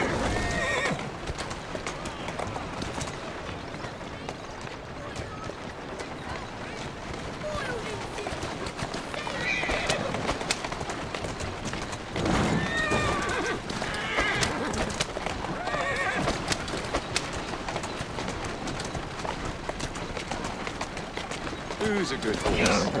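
Horse neighing and hooves clip-clopping in the video game Assassin's Creed Syndicate, with repeated whinnies over continuous hoofbeats through Whitechapel streets, someone speaking intermittently throughout.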